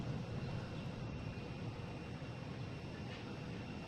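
Delta Airbus A330-900 jet airliner at Boston Logan airport, a steady distant broadband jet roar with no distinct peaks, heard alone without talk.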